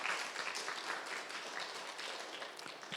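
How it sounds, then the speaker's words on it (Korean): A church congregation at Sunday worship claps to welcome four elders, a soft, dense patter of many hands sustained for a few seconds, faint and somewhat distant. "우리 한번 박수로 환영해 주시기 바랍니다."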